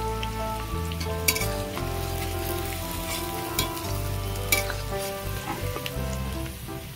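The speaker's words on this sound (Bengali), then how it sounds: "পেঁয়াজ লঙ্কা ভাজা হয়ে গেছে" Steady sizzling of onions and green chillies frying in hot oil with whole garam masala and cumin, with a few stirring clinks over a constant crackle and no talking.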